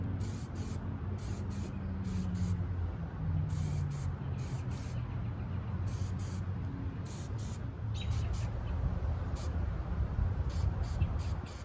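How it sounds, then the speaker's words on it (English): Clear coat sprayed from an aerosol can onto a taped-up gun frame during a dip-style finish, heard as repeated short hissing bursts of spray over a steady low background rumble, fairly close. "now the last step here is gonna be to apply our clear coat"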